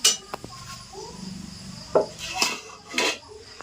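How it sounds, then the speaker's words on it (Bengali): A lid is lifted off a pot of cooked masoor lentil dal, giving several close metallic clinks and clatters among quieter kitchen sounds. "এই যে ডাল এটা একটু ঢাকনাটা একটু সরাও"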